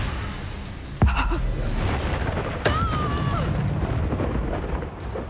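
A Confringo fire spell bursts in Hogwarts Legacy with two sharp explosive cracks a second or so apart. Each crack is followed by a rushing, crackling roar over busy game ambience, with a brief gasp-like vocal sound nearby.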